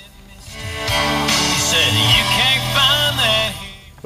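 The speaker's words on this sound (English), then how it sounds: "Give you a sample of the sound system here." Music plays through the factory stereo with a 6-disc CD changer in a low-mileage 2008 Honda Pilot EX, heard inside the cabin as a steady, full-range sound from start to finish.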